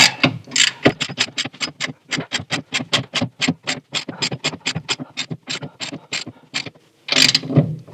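A 1/4 inch drive ratchet with a 1/2 inch shallow socket tightens bolts while installing the dash and column of a Scout restoration, giving a long, steady run of close, sharp clicks at a regular rhythm.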